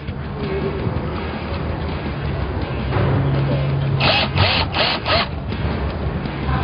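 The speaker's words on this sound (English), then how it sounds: "I'm going to countersink my screw." A power drill fitted with a countersink bit cuts a recess for a screw in wood while building a table saw sled, with a sustained grinding whir followed by several short rapid bursts near the end.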